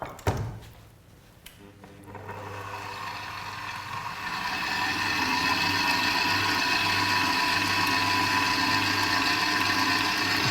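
A Kenwood stand mixer starts with a thunk, then whirs steadily and loudly, blending mascarpone and two other cheeses into a smooth paste in a kitchen.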